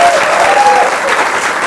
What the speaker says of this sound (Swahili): Wapi makofi ya Bridget Achieng?